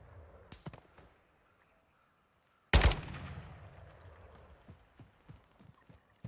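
Distant gunfire from other players in an online shooter, faint scattered pops at first, then one loud sharp blast followed by a long decaying rumble and a string of light, irregular shots.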